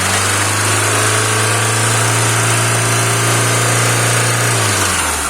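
A car engine fitted with a fully rebuilt Solex 21051 carburetor idles steadily and loudly up close, holding an even, unwavering hum with no dips or surges, the engine note dropping slightly near the end.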